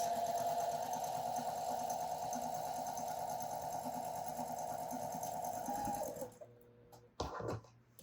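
Quilt block pieces for a hare block are stitched on a sewing machine, which makes a steady close whirring hum that runs continuously and then stops. Fabric handling and small clicks follow.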